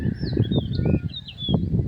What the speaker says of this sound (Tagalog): Uy, ibon oh.